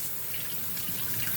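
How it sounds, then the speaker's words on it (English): Lukewarm tap water runs steadily over vegetables in a kitchen sink, a continuous close hiss of flowing water with no speech. "So to wash everything, get some nice kind of lukewarm water."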